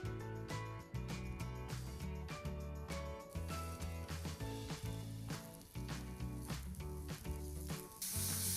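Button mushrooms sizzling and crackling in a frying pan, a steady close hiss punctuated by sharp pops, with background music playing over it.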